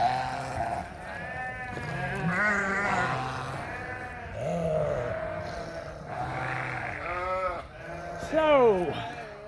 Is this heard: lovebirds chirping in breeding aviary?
no